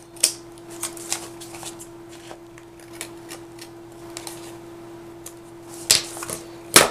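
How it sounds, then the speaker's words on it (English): Scissors snip off the excess edge of a sticker during a papercraft sketch class, giving a few faint, scattered cuts with louder crisp snips toward the end, close and quiet with no talking. "just using a pair of scissors, just trim off the excess sticker"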